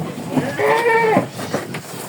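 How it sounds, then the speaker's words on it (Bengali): A single crossbred goat at a goat farm gives one clear, wavering bleat lasting about half a second, close and prominent over quiet background noise. "এই ছাগলগুলি সবই বিক্রি হবে"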